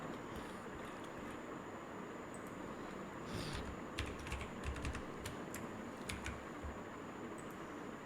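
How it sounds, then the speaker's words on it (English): A paragraph is typed on a computer keyboard for a LaTeX document. Quiet, uneven key clicks arrive in bursts over a steady low hum, growing busier toward the middle and then thinning out. "I type a paragraph here."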